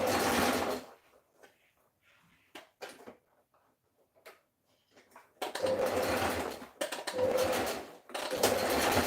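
Sewing machine stitching a dress seam, two loud close bursts of rapid mechanical stitching separated by a quiet stretch of faint clicks and handling.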